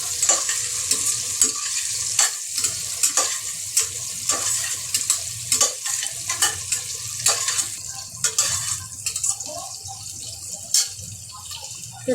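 Chopped onion with green chilli pieces sautéing in a pan for a Marathi-style mutton curry: a steady sizzle broken by repeated scraping stirs, close and fairly loud, with no talking.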